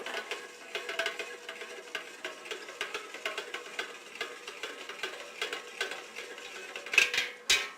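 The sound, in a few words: stirring homemade wine mixture with sediment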